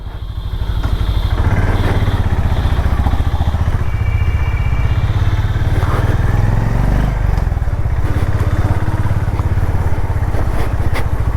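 A Honda Highness motorcycle rides along on a short coffee ride, its engine a close, loud, steady thumping chug that rises after a quiet start and holds with light rattling and wind.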